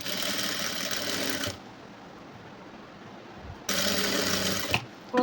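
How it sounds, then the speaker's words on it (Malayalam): Sewing machine stitching the joined cross pieces of a sleeveless top, a steady close mechanical whir in two runs separated by a pause, ending with a short burst. "നമുക്കൊരു ക്രോസ് പീസ് വെച്ച് മൊത്തം ഇങ്ങനെ സ്റ്റിച്ച് ചെയ്തെടുക്കണം"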